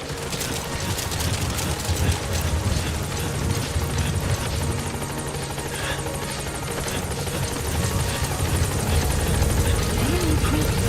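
A support helicopter arrives in the video game Metal Gear Solid V, its rotor thumping steadily and close under a buzzing engine drone throughout, with radio voices speaking over it.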